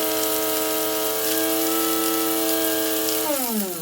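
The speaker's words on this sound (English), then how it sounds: "grinding the bay leaves like this" Whole dry bay leaves being ground for an étouffée spice blend in a spice grinder, a steady, loud motor whine that holds level, then drops in pitch as the grinder slows near the end.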